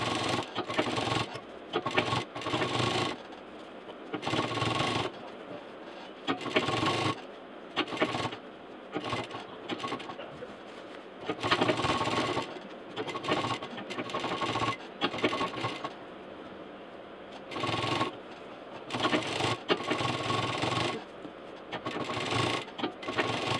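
Sewing machine stitching the frill of a handmade fabric toaster cover, running in repeated bursts of a few seconds each with short pauses between, fairly close and steady, with no talking.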